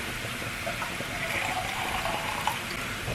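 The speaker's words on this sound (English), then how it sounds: "Swish it around to get rid of all the stuff on the inside and tip it in." Water swished inside an emptied tomato tin and poured into a pan while cooking a Spanish Balearic dish, a steady close sloshing and gushing wash running the whole time with a small clink near the end.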